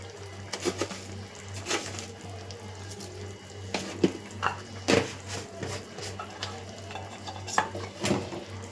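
Pepper chicken with potato pieces and rock salt being stirred and mixed in a pan, giving repeated scraping, clattering strokes over a steady low hum and faint sizzle, close by with no talk.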